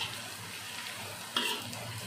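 Nasi goreng with dabai fruit stir-frying in a pan, a steady sizzle with stirring and a sharper scrape and sizzle surge about two-thirds through, heard up close with no talking.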